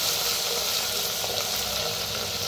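A crushed paste of garlic, green chilli, cumin and asafoetida roasts in an earthen pot, giving off a dense, steady, close sizzle with no pauses.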